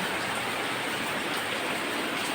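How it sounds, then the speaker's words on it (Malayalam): Steady rain pours down on a village home during a Diwali-season downpour, a dense, even hiss of falling water with no break or voices. "നമ്മുടെ ഇവിടെ മഴയാണ്"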